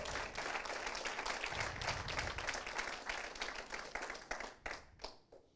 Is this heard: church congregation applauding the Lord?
yes